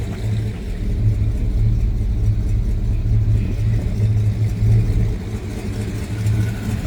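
A Dodge Challenger R/T with a 426 HEMI V8 idles nearby with a loud, deep, lumpy rumble and a steady pulsing rhythm throughout.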